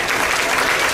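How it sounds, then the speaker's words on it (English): An audience at a youth swine showing event gives a steady, full round of applause, dense continuous clapping filling the whole brief moment. "So you guys need to give them a big round of applause and appreciation for Mr. Glass."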